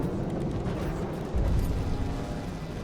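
Particle cannon firing and exploding in From the Depths, a continuous rumbling roar with a heavy low boom landing midway, loud and close with no talking.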